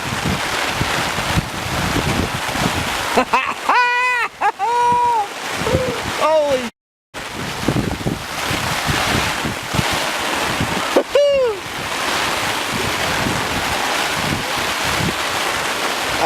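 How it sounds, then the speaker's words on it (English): Strong wind and rain at a lake campsite in Algonquin Park roar steadily and close to the microphone throughout, buffeting it hard, while someone speaks briefly and exclaims over the noise. "Alright, it's raining."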